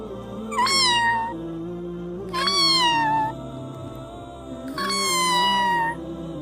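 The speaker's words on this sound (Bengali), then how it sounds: "মিকি কাছে গেল আর ম্যাও ম্যাও করে" Three drawn-out, high cartoon-style cat meows from an animated short, evenly spaced over a steady low background hum, loud and close.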